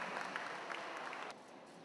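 Spectators around a badminton court applaud the players after a final, a dense, even burst of clapping that drops in level near the end.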